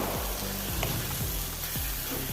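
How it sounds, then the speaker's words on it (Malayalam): Kashmiri chili powder being stirred into capsicum curry frying in a pan, a steady close sizzle broken by a few soft repeated scraping strokes of the spoon, with no voices. "ഇപ്പം ചേർത്തത് നല്ലപോലെ ഒന്ന് ഇളക്കി കൊടുക്കാം"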